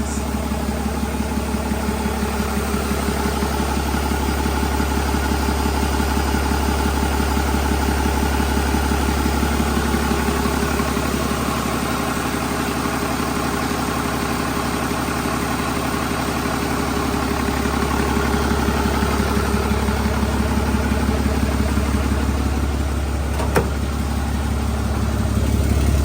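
A 6.7 diesel engine idles steadily right after its first start on fresh wiring, a continuous low, even rumble that holds for the whole stretch with no talk.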